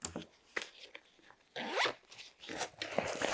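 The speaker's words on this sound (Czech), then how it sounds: "Dál od těla se nachází síťovaná přihrádka, uzavíraná zipem." A zipper on the mesh compartment of a Helikon RAT CCW waist pack is pulled in several quick, close rasping strokes with short pauses between them.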